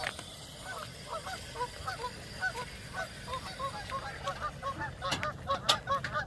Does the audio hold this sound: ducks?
yes